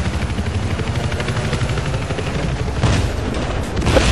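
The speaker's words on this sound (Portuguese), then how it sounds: "Um helicóptero hostil alerte da sua localização. Olha o helicóptero." Hostile helicopter in the Battlefield 4 video game, a steady rotor drone layered under continuous gunfire and explosions, with louder bursts near the end of the dense battle mix.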